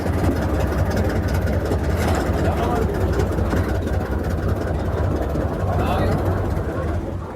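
Twin 2,000 horsepower diesel engines on a newly launched boat on sea trials start up, settling into a loud, steady low rumble that continues throughout, with a person talking over it.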